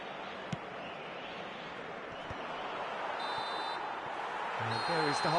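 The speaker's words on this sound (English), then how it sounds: "And there is the half-time whistle." A referee's whistle signals half-time in the eFootball video game on PS5, two shrill blasts rising over a steady stadium crowd roar, with a commentator's voice in the mix.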